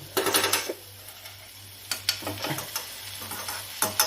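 Green gram (cherupayar) cooking in a pot is stirred in short bursts of scraping and clinking, with quiet pauses between strokes and a low steady hum underneath.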